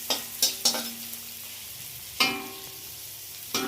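Basmati fried rice with carrot being stirred in a pan over medium heat: a few sharp spatula knocks and scrapes, spaced irregularly, over a faint low sizzle, close and fairly quiet.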